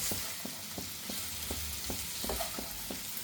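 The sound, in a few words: stirring okra stir fry on high flame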